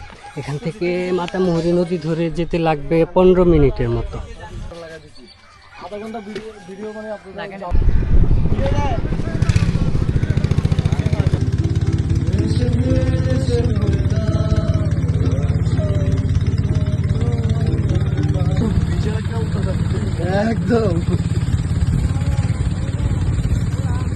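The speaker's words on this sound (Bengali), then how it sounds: "সেই নদীর থেকে স্পিড বোটের নৌকাতে করে যাওয়া লাগে" A speedboat motor on the Matamuhuri river near Lama roars to life after a few seconds of people talking, then holds a loud, steady drone while voices continue faintly over it.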